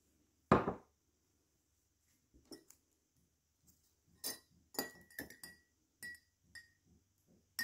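A spoon stirs sugar into lemon-flavoured tea in a glass, giving a sharp knock followed by a run of bright, irregular clinks against the glass, close up in a quiet kitchen.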